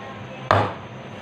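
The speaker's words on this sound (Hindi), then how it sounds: "सारे मिक्सचर को केक पैन में डाल के हल्के हल्के से हम टैप कर लेंगे" A cake pan filled with chocolate batter for a tawa-baked chocolate cake gives a single sharp, close knock, standing alone over a faint steady background hum.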